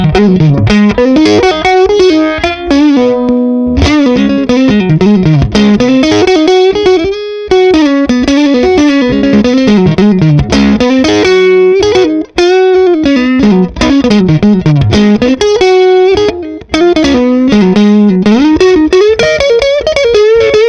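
A Fender Stratocaster plays through a RIFT PR18 amp with the reverb off and the volume at 5, producing loud, dry, slightly driven melodic lead lines and chords that flow almost without a break.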